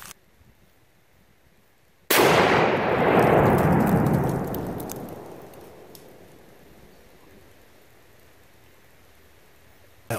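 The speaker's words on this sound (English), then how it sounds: "10 grams flash powder in a little plastic screw container, and we'll see if it'll detonate with John 17." Ten grams of flash powder in a small plastic screw container detonated by a .22 rifle shot outdoors: one sudden loud blast that rolls into a long, fading rumble and then quiet.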